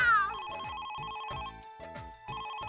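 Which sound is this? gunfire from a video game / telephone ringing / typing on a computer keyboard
telephone ringing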